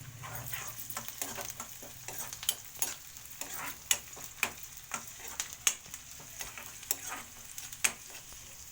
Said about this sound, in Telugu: నూనెలో బాగా ఫ్రై చేసుకోవాలి